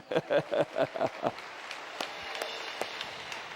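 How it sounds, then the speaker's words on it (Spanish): A church congregation claps in a worship service: a quick run of about six loud, rhythmic claps with voices calling out over them, then thinning into scattered, softer claps. "Dale un aplauso al Señor."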